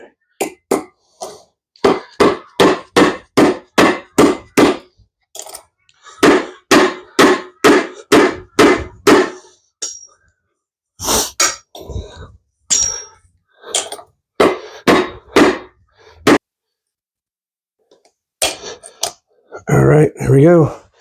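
Sharp metallic hammer blows drive a tapered bearing onto a John Deere 430C final drive shaft with a bearing driver, coming in quick rapid bursts of many strikes separated by short pauses, loud and close.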